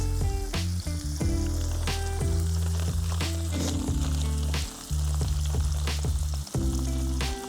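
Loud, steady sizzling of burger patties frying in a hot pan over a tuna can burner, with crackles and pops throughout and a few clinks of a utensil against the pan.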